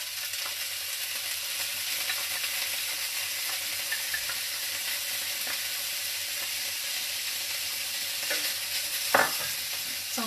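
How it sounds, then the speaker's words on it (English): Bacon frying in a pan, a steady close hiss of sizzling fat throughout with a few scrapes of stirring near the end. "I like to start with the bacon just to render out that fat."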